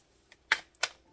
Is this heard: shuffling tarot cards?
yes